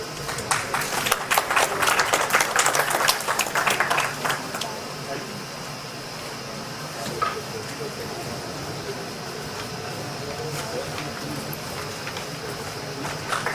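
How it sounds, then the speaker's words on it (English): Audience applause at a business conference ceremony, a burst of clapping in the opening seconds that fades out, followed by quieter room noise with scattered sounds. "Round of applause, ladies and gentlemen"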